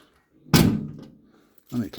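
A cabinet door closes with one sharp close thunk, followed by a softer knock a second later; speech briefly in the background.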